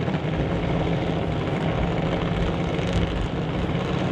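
At an NHRA Summit ET Series race, drag racing cars hold their engines at set RPM in staging. A steady, dense engine drone with a strong low hum continues throughout without a break.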